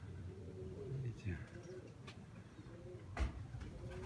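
Faint pigeon coos and soft wing flutters outdoors, with a voice speaking nearby.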